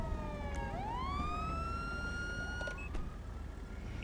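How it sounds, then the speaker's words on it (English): A police car siren in the GTA V game sweeps upward in a loud, sustained wail with bright harmonics, then holds its pitch and fades, with no talking. "Let me turn my sirens off."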